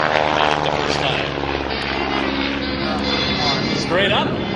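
A vintage Stearman PT-17 biplane flies aerobatics at the Abbotsford Airshow, its engine a loud, steady, rough drone that shifts slightly in pitch as it maneuvers, with an announcer talking over it.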